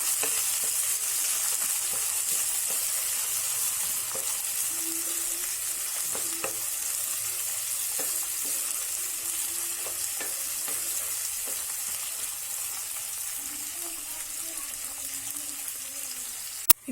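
Mint and coriander leaves frying in a pan with a steady, even sizzle and occasional soft scrapes of stirring, close up and continuous, with a faint quick sound at the very end.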